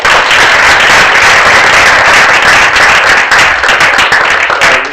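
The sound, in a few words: audience applause at prize ceremony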